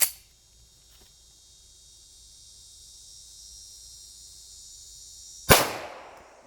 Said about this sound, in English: I'm going to fire on that Sprite can down there